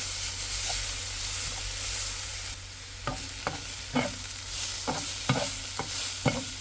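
A Korean side dish fries in a pan under a steady sizzling hiss, and in the second half a utensil knocks and scrapes the pan in a series of sharp stirring strokes.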